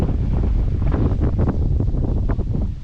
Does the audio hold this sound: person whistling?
no